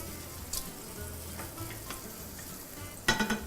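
Finely chopped onions frying with bacon in a pan, a soft steady sizzle with a few stirring scrapes, then a sharp clatter of metal utensils against the pan near the end.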